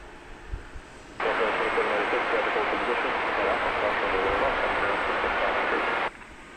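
An American Airlines Boeing 737-800 jet bound for Santa Ana, California, roars steadily at DFW Airport at night, a loud sustained engine rush that rises abruptly, holds for about five seconds, then cuts off, with faint voices nearby.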